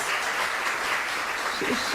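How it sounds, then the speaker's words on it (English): An audience applauds at an event on sports for the disabled, honoring a Turkish representative; steady clapping fills the full two seconds at moderate loudness, with a voice briefly rising near the end. "Please get great applause."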